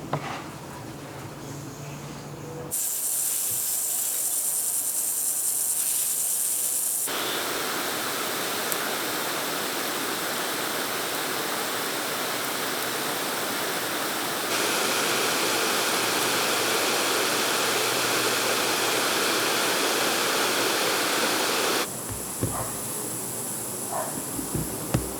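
A lawn sprinkler zone spraying water, a steady loud hiss of spray that runs continuously with abrupt shifts in level as heads cycle, with no voices present.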